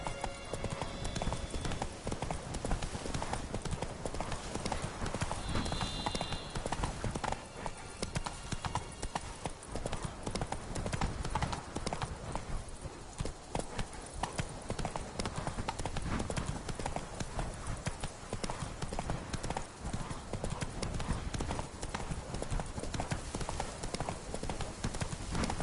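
Roach, the horse from The Witcher 3, gallops steadily with a dense, continuous drumming of hooves on the ground, loud and close throughout, with no voices over it.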